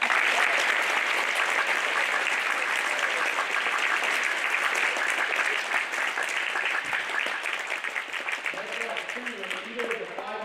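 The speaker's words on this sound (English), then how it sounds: "Let's give him a round of applause." A Veterans Day broadcast audience gives a young boy a long, steady round of applause, dense and loud throughout, thinning slightly near the end.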